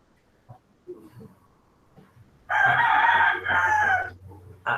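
A rooster crows loudly in two long, strained bursts, close by, following a few soft clucks and rustles.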